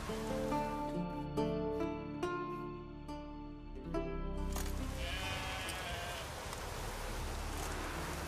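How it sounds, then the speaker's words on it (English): Sheep bleat in the video game The Witcher 3, with several clear bleats over a bed of game music and ambient sound. "Know how to get a sheep to move where you want?"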